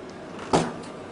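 A hinged door on a Toshiba photocopier swings open, giving one short, fairly close clunk with a brief rattle, set against a quiet room.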